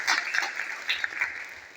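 An audience at a panel discussion in The Hague applauds, a faint, distant patter of clapping that rises in a few scattered bursts before fading.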